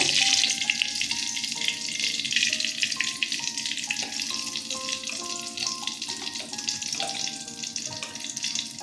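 Cauliflower frying in refined oil, a steady close hiss and crackle with faint tonal clinks and scrapes running underneath, no talking.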